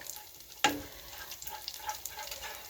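Flour being stirred into pork chop drippings for gravy in a pan, a soft sizzle with a sharp scrape of the utensil near the start, then gentle bubbling and stirring.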